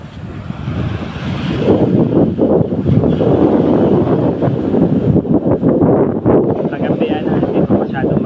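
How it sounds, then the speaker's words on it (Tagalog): Strong gusting wind roars steadily before an approaching typhoon, buffeting the microphone at close range, with a voice speaking over it. "Kaya ngayon lang umaga lumakas ang hangin."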